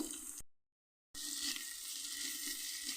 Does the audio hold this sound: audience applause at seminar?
no